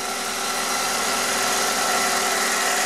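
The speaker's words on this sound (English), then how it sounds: "let the engine idle without touching the gas until that fan came on and shut off twice" A freshly rebuilt car engine idles steadily during its break-in after the first startup, a close, continuous mechanical hum with a faint rough vibration running unbroken throughout.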